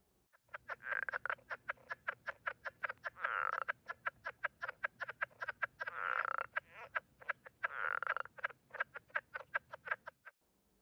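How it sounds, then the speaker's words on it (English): A leopard frog on Staten Island gives a long run of unpulsed chuck calls: rapid, evenly spaced clicky notes with a few denser, drawn-out stretches, heard clearly on their own with no other sound over them. "frogs on Staten Island made an unpulsed sound that Caulfield described as a chuck, and it sounded like this"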